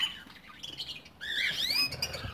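Cage birds in an aviary set with flowers chirp and squawk in quick high calls, a brief scratchy burst at the start, then a louder run of rising and falling whistled notes in the second half, fairly close.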